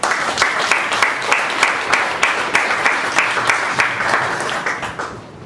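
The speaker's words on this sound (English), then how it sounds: "please give Godfrey a big round of applause." A room full of people applauds steadily, the clapping loud and sustained for several seconds before beginning to taper off at the end.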